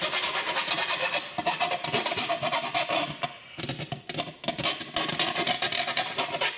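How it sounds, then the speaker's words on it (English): A hole cut in a C6 Corvette panel is deburred by hand, producing rapid, close rasping and rubbing strokes in steady bursts with a few brief pauses. "deburr it a bit."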